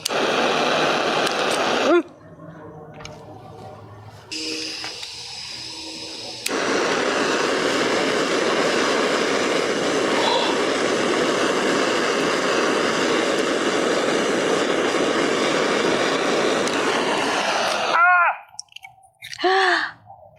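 Gas torch firing inside a woodfire oven, a loud continuous roaring hiss that cuts out briefly, returns and then stops with a few pops near the end.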